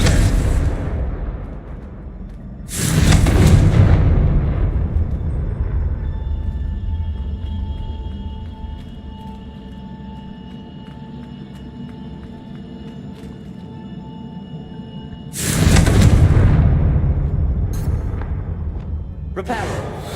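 Fire-spell explosions cast in Hogwarts Legacy: two loud, broad bursts a few seconds in and again near the end, each followed by a rumbling decay, with a steady tonal hum of game ambience between them.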